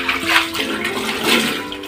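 Water poured into a toilet bowl during cleaning, a loud, close rushing splash that swells and fades over two seconds with no talking.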